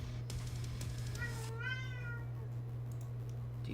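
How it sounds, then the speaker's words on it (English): A pet cat demanding food gives a single drawn-out meow, loud and close, over a constant low hum and a few keyboard clicks. "Do you hear this cat?"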